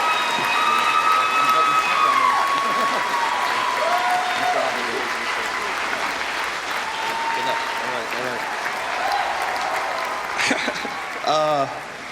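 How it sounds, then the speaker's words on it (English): Audience applause at an award ceremony honoring Dan Reynolds with the Trevor Hero Award, a loud, steady wash of clapping from a large crowd with scattered cheers and whistles, sustained throughout with some voices mixed in. "Please join me in a round of applause."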